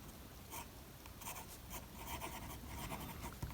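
Click Neo Tulip fountain pen scratching across paper in short strokes and pauses, a close, steady scribbling rhythm with faint nib scrapes, no voices.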